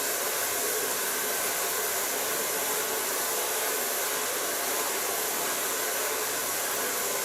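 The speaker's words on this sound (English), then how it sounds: "So now I can blow dry your hair." A handheld hair blow dryer runs steadily while blow-drying hair, a loud unbroken airy roar held at an even level throughout, close up and with no voices.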